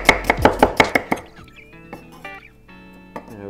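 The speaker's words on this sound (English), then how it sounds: "Then half a red onion. Again, just slice as thinly as you possibly can." A knife thinly slices half a red onion on a board, a fast run of about seven crisp close chops that then stops, followed by light faint clinks and handling sounds.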